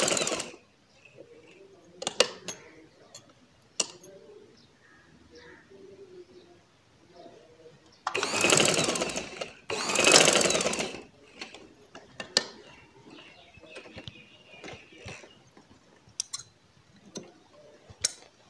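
A sewing machine stitches the neckline of a baby frock, giving scattered mechanical clicks and ticks with two louder whirring bursts of stitching midway, fairly close.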